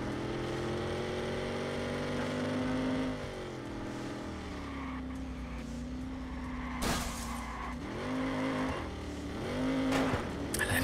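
A powerful car engine in Watch Dogs roars and revs continuously, pitch rising and falling through gear shifts, with a couple of sharp bursts near the end.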